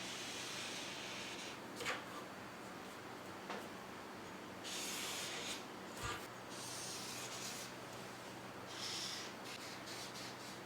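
Black marker drawn across fabric while marking a high-waist mermaid skirt: a few faint, scratchy rubbing strokes come in short bursts against a quiet background, with no talking.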